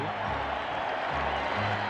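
A stadium crowd roars and cheers at the 1986 ALCS Game 5 baseball game, Red Sox at Angels, a steady wash of noise under a commentator's voice.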